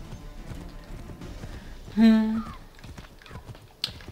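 A horse gallops with a rapid, steady clip-clop in the Assassin's Creed 3 video game, and a short, loud neigh rises in the middle.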